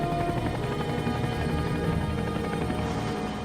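UH-1 military helicopters of the First Cavalry Division airlifting troops in Vietnam give a steady, droning rotor and turbine hum, even and unbroken for a few seconds.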